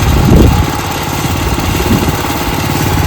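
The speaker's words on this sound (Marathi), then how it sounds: "तुमचं आधुनिक मशीन चालवा" A modern farm machine's engine runs steadily during a rice paddy harvest, with a loud, continuous mid-pitched chugging drone that swells briefly at the start and stays close throughout.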